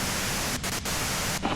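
Steady broadband static hiss from Disco Elysium, loud and continuous with a few brief dropouts, no voices.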